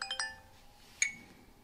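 Powering off a cheap entry-level 4K compact camera gives a quiet, brief electronic chime: a few quick high notes followed by a single brighter ding, faint and alone.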